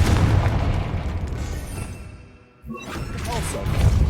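A Confringo blasting curse explodes in Hogwarts Legacy: a sharp burst follows a brief lull and then rolls into a loud, rumbling boom, with other game sounds around it.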